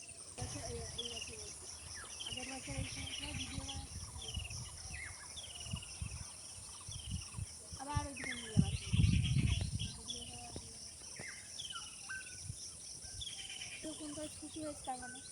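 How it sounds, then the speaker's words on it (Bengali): Many birds call and chirp throughout, with a steady insect drone beneath, and a brief low rumble midway; faint voices occasionally. "আর সেই নানান রকম পাখি ডাকছে"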